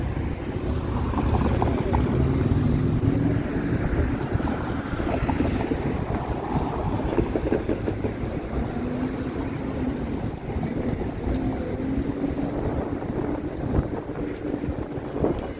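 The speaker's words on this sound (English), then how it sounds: "Windy at this intersection" Strong wind gusting at a city intersection surrounded by tall buildings on Bay Street in Toronto, a continuous loud roar of buffeting against the microphone with low rumbling traffic beneath and no talk.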